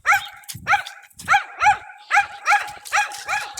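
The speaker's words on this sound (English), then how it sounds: "that dog is really loud" A dog barks loudly and repeatedly at close range, about eight sharp, evenly spaced barks in quick succession.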